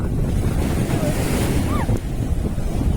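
Surf rolls and crashes along Ezara beach in Kannur, Kerala, as large waves surge up the shore and drain back, a loud continuous roar mixed with gusting wind buffeting the microphone.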